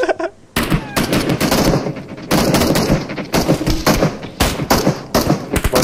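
Rapid bursts of automatic gunfire from PUBG multiplayer play fill the mix, loud and close, in several sustained volleys separated by brief gaps, with faint voices underneath.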